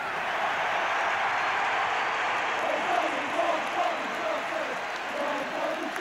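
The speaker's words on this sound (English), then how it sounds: "Just listen to the crowd as Charlton leads out England" A large football stadium crowd roars as Charlton leads England out, a distant continuous wash of cheering with faint voices rising and falling within it.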